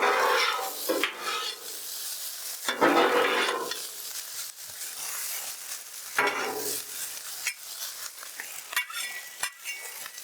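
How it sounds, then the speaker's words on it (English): Rice and pork sizzling on a Blackstone flattop griddle as a spatula stirs and scrapes, with steady frying hiss and intermittent louder scraping bursts, close and alone without talk. "we're just gonna separate that out, break it up a little bit, make sure the oil gets on it"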